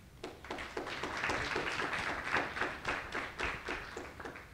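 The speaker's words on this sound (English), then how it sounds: "round of applause for Gianluca," Fairly faint applause from a conference audience at the Global Solutions Forum 2023, a steady patter of many hands clapping throughout without talk.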